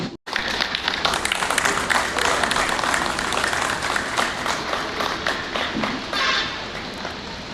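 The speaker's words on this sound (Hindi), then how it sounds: "इनके लिए जोरदार तालियां" Sustained, dense applause from an audience at a public ceremony honouring soldiers, loud and continuous for several seconds after a brief opening gap, with no speech over it.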